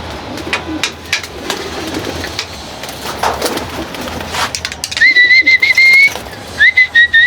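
Pigeons kept in cages coo softly amid scattered rustles and bumps, then a clear repeated whistle-like call rises near the end.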